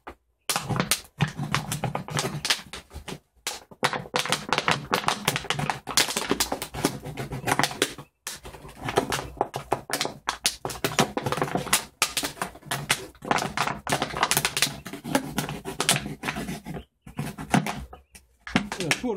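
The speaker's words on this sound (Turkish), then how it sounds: "İkinci şişemizin yemi koymak için alt tarafının tabandan yuvarlak bir delik açıyoruz." A round hole is cut in the base of a plastic water bottle, heard as dense close-up crackling and crunching in irregular bursts with brief pauses throughout.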